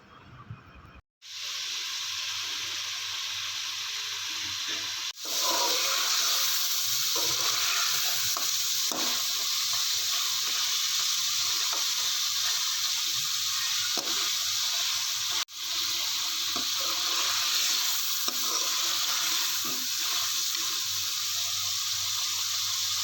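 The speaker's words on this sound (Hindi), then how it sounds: "अब हम लोग इसको अच्छी तरह से भूनेंगे ताकि जो दही है अपना पानी छोड़े, वो खुश्क हो जाए" Mutton with yogurt frying in a pot for pulao, a loud continuous sizzle and hiss, broken twice by sharp scraping stirs, steady and close throughout.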